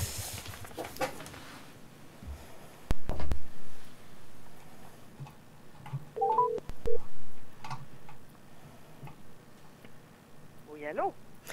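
Telephone keypad dialing tones during a radio phone call: a few short clustered beeps midway and another brief burst near the end, set among studio noises and talking.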